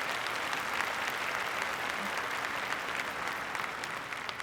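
A large commencement audience at UW-Madison applauds, a dense, even wash of distant clapping that holds steady and fairly faint throughout, with no talk over it.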